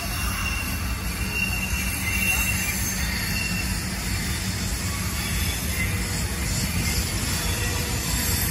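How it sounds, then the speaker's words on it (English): A loaded Norfolk Southern coal train rolls past at Horseshoe Curve, a steady broad rumble of rail cars with wheel squeal and high metallic hiss throughout, moderately loud and continuous. "It's a loaded coal train."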